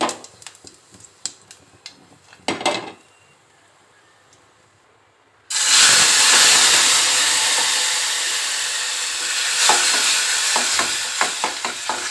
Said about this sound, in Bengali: জিরে আর শুকনো লঙ্কা ফোড়ন দেবো, আর কিচ্ছু দেবো না।